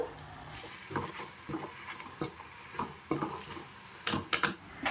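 A vegetable fry cooks with salt and turmeric in a pan, with a low sizzle under irregular spoon stirs and scrapes, building to a cluster of sharper clatters near the end, with no talking.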